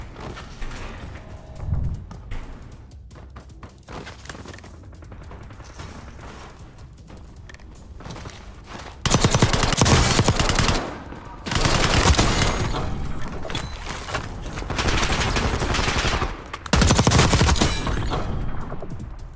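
Gunfire from weapons in a shooter video game, scattered shots at first, then long loud bursts of rapid automatic fire in several waves, close and dense, with mechanical clicks between.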